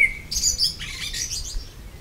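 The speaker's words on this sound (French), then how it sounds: "On a un petit merle qui nous fait une chanson." A common blackbird sings outdoors in the morning, a short burst of bright warbling phrases and chirps standing out clearly over low background rumble, with no talking.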